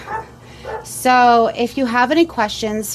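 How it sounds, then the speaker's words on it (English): A household dog barks and yips at a neighbor in short, sharp bursts during a home spray-paint crafting session, heard close under a person talking. "Sorry about the dog barking at my neighbor."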